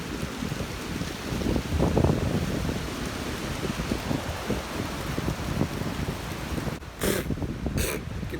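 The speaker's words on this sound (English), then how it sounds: "it's really windy right now." Strong outdoor wind buffets the microphone in continuous low gusts, with a broad roar that swells and eases throughout and a couple of brief higher noises near the end.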